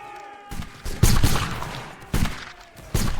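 Musket and rifle volleys crack out in a Napoleonic-era multiplayer battle game with 95th Rifles players, loud bursts of overlapping gunfire coming in irregular clusters between quieter gaps, with faint background tones underneath.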